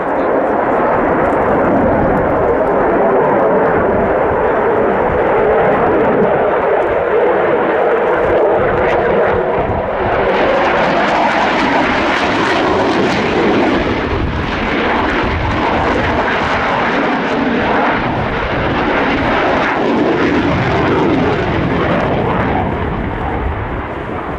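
F-16 fighter jet flying a display at the RIAT 2023 air show: a loud, continuous jet roar that swells and shifts as the aircraft passes, with a commentator talking over the public address.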